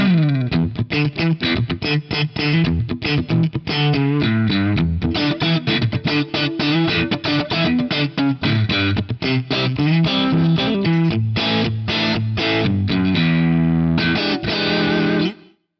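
A distorted electric guitar plays a rhythmic riff of rapid, tightly chopped chords through an Axe-Fx III with an inverse room reverb impulse response, loud and continuous before stopping abruptly at the end.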